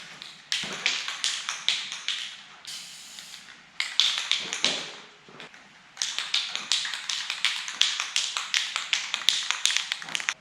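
Aerosol spray paint can dusting cylinder heads from a 1969 Buick Riviera big-block engine, heard as close, loud hissing bursts in quick repeated pulses with short breaks, with no talking.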